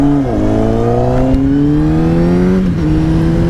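A 2007 Honda CBR1000RR Fireblade motorcycle pulls away. Its engine drone is loud and close, with rising pitch through the gears and two brief dips as it shifts. No one speaks.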